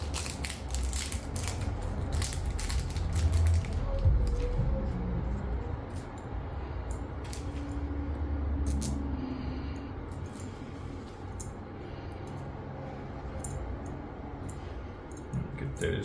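Small F bushings being tightened down during a Dell gaming PC build, giving close, dry mechanical ratcheting clicks and creaks in an uneven run, fairly quiet, with no talking.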